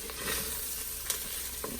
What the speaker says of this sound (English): I also make sure I scrape the sides of the Instant Pot.